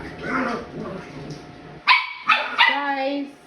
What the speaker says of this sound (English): Sorry about the dogs making noise.